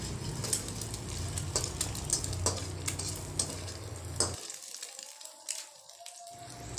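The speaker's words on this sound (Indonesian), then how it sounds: "Setelah itu bisa kita orak-arik bersamaan dengan bawang putih bawang merahnya." Egg being scrambled and stir-fried with garlic and shallots in a pan: steady close sizzling with repeated spatula scrapes and clicks, then a short quieter stretch before the frying resumes.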